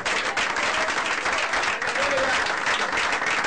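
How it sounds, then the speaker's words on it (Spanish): A church congregation breaks into dense, sustained applause that fills the room evenly and steadily throughout. "denle un aplauso a la gloria del Señor."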